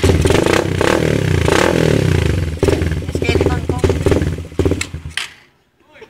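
A racing motorcycle engine revs loudly and roughly up close, then sputters and dies out to silence near the end, with rattling and scraping and a voice speaking over it.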